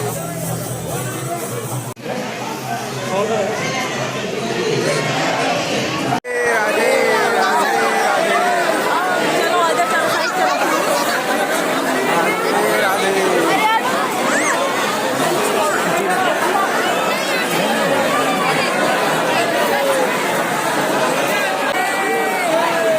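Dense crowd chatter at the Ladliji Maharaj temple in Barsana, many overlapping voices forming a loud, continuous babble close around, with a brief break early on before the hubbub resumes and holds steady.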